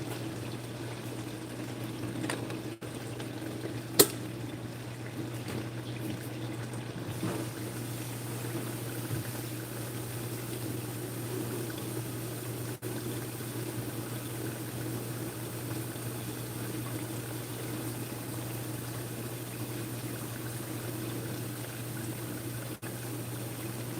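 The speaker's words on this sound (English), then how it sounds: "I'm gonna put some water in the kettle so I can start getting hot fast." Tap water runs into a kettle in a home kitchen, a steady, even rush and hiss that continues without a break at moderate loudness, with no voices.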